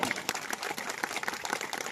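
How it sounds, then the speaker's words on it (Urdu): An audience at a program gives a burst of applause, dense clapping hands at a steady level for a couple of seconds. "ایک بار زوردار تالیاں"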